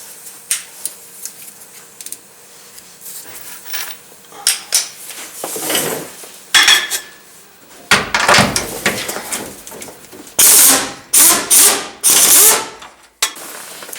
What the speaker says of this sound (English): go ahead and remove the nuts using a deep 15mm socket